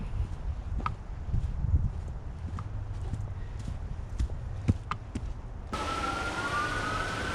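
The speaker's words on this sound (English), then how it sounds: "I don't know if you just heard the sirens go by" Scattered knocks and clatter, then an emergency vehicle siren wails in the distance by a river in Austin, Texas, with a rising and falling tone near the end.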